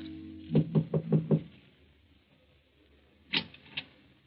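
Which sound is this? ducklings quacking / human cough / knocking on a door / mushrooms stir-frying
knocking on a door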